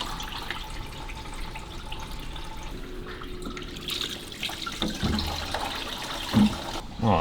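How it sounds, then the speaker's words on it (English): Water splashing and trickling from a leaking water pump on a Buick engine, a steady close wash of liquid with louder gushes toward the end. "It was pouring water out of here."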